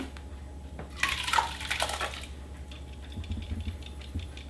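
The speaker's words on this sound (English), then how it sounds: "I'm going to go ahead and pour this straight into my crock pot over here now." Chopped herbs and liquid poured from a blender into a crock pot while making an herbal glycerine tincture, a soft wet splashing pour of about a second and a half, then quieter dripping and small clatters.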